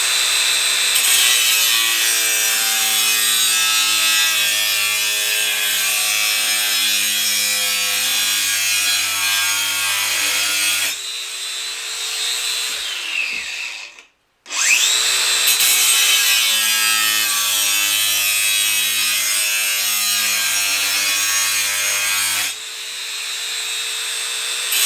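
A Dewalt 20V cordless circular saw rips through wood in a loud, sustained high-pitched whine, cutting for about eleven seconds, briefly cutting out, then cutting again at full load.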